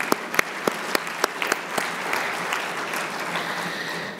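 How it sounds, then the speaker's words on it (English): Conference audience applauding at the IAIS 2019 Annual Conference wrap-up, opening with a few sharp separate claps that swell into steady, dense applause through the room. "So a round of applause for them too"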